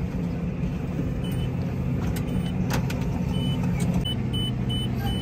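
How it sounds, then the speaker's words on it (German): A Case IH tractor drives across a field during wheat and spelt drilling with GPS, a steady low engine drone heard from inside the cab, continuous and loud with a few faint beeps and clicks, no talking. "fahren wir einmal, ohne die Maschine reinzusetzen, die letzte Vorgewendebreite quasi einmal ab"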